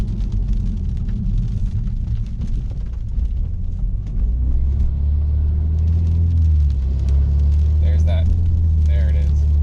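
A low, droning exhaust boom fills the cabin of a BMW 328i fitted with a 335i exhaust conversion, a steady deep rumble that swells slightly partway through, heard from inside the car.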